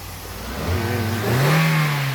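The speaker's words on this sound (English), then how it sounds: "Boss Kris is at it again with the engine." A car engine with a choking, delayed-response fault revs up during diagnosis in a garage, rising from a low mid-pitched hum into a louder, sustained rev that holds steady, close by with no talking.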